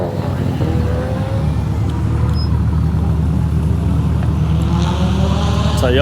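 A Mitsubishi Evo 10 tarmac rally car drives past at a rally stage, its engine a steady loud rumble that rises in pitch toward the end, with no break in the noise.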